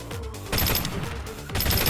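Two loud bursts of automatic rifle fire with recoil in the CROWZ game, each a dense rattle of rapid shots separated by a brief pause.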